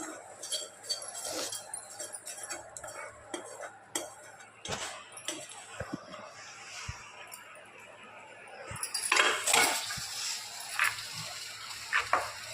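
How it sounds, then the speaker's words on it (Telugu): Tempering being stirred into hot chutney in a pot, with scattered clinks and scraping of a spoon against metal and light sizzling, close and fairly quiet, with brief louder clatter toward the end. "పోపు మనం చట్నీలోకి కలుపుకోవాలి."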